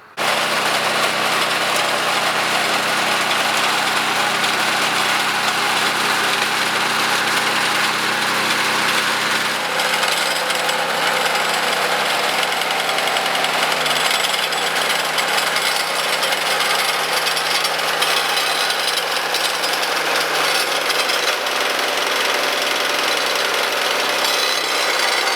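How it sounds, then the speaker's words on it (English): A garden tiller engine runs loud and unbroken while tilling rows for pole beans, a harsh steady roar with churning grind, its low drone shifting slightly partway through. "So let me get the tiller in here."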